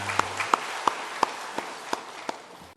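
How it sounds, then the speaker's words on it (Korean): Claps from a church congregation at a Sunday service come as a steady, evenly spaced series of about seven sharp hits, moderately quiet, over a faint background hum. "하나님께 영광의 박수를 드립니다."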